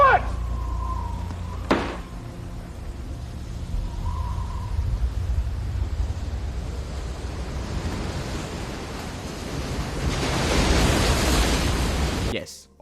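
Storm scene from The Truman Show with massive artificial waves, a loud, steady roar of surf and wind that swells toward the end, with a brief sharp hit early on.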